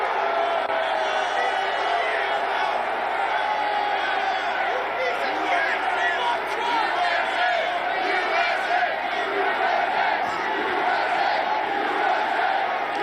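Dense, agitated crowd at a Trump rally, a continuous roar of overlapping shouts and voices, loud and steady throughout with no single voice standing out.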